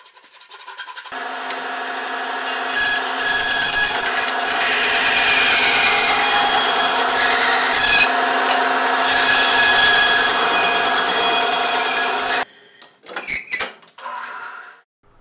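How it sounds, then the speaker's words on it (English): A saw cuts slits for wedges into the top of a wooden mallet head in a steady, rasping drone for about eleven seconds, then stops, followed by a few short wooden knocks and rattles. "I'm cutting myself some slits in order to put wedges in the top of the head"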